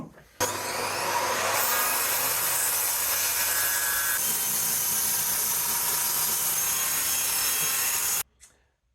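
Hand saw cutting through a flat wooden blank for a wooden sword, steady close rasping strokes that run continuously for about eight seconds, then stop abruptly.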